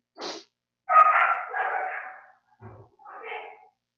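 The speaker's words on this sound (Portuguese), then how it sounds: "a minha cachorra está mordendo" A few short dog barks and yips, close by, separated by brief silences, the middle one longer and growly.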